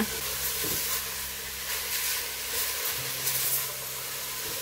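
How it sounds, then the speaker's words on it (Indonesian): Vegetables stir-fried in a pan for moi choi with pig trotters, a steady bright sizzle and hiss with soft stirring scrapes, fairly close and continuous. "ini sayurnya udah boleh dimasukkan, terus kita aduk ya"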